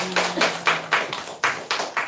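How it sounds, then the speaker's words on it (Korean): Congregation clapping during a Korean Easter Sunday church service, several uneven bursts of hand claps close by, a faint sustained tone fading early. "우리 주님께 영광의 박수 올리겠습니다."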